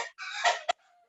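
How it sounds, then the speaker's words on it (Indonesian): A laying hen on a poultry farm gives a drawn-out squawking cackle, then a short sharp cluck, close and clear with no talk over it. "suara-suara ayam yang sedang bertelur"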